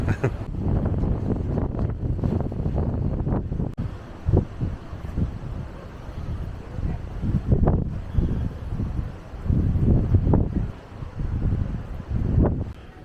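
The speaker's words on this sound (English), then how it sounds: "Suddenly got very windy up here." Gusty wind on a hilltop above Portofino, Italy, buffets the microphone in low, rumbling bursts that rise and fall over several seconds, with no voices present.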